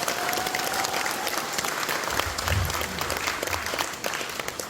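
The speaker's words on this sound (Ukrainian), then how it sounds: "Я хочу оплески для власних керівників." Broad, steady applause from a gathered crowd honouring school leaders at a Ukrainian graduation celebration, continuous across the whole stretch and moderately distant.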